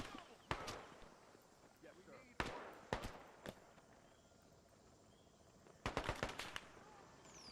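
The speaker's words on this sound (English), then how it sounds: "I love the sound of the bullets, too." Scattered bursts of gunfire crack in a Vietnam War real-time strategy game, Gates of Hell, with short volleys of sharp shots separated by quiet gaps filled with faint insect-like ambience, moderately distant.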